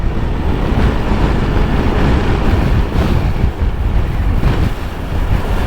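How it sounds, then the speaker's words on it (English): Steady, roaring wind buffets the microphone continuously, a dense rushing noise with no voices. "It's windy a little bit."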